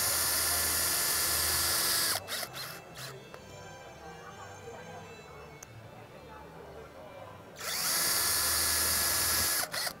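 A power drill drives self-drilling metal screws through a metal bracket on a vertical rod panic device, giving two loud, close whirring bursts at the start and end with quieter handling noise between.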